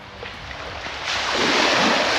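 Sea waves break and wash up onto a sandy beach, a steady roar that swells louder partway through, with wind noise on the microphone and no talking.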